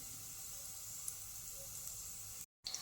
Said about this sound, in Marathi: आता तेल तापलं आहे ह्याच्यामध्ये आपण घालून घ्यायचे जिरे ही तमालपत्रे आणि इथे दोन चकरी फूल घालते